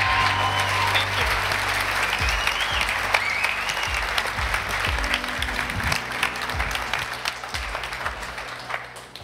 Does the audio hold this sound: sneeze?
no